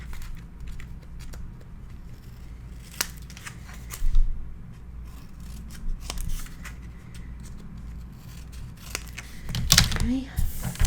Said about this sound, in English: And I'm going to trim the corners.